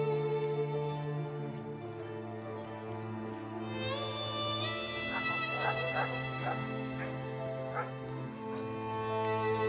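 Sled dogs whine, yip and whimper in a string of high, wavering cries over a steady droning hum, the calls clustering in the middle and fading toward the end.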